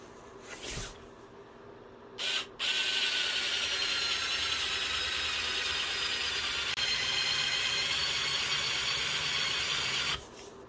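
A Hart 4V cordless screwdriver drives a 3.5-inch screw into a 2x4, with a steady motor whir that runs for about eight seconds after a few short clicks and handling knocks.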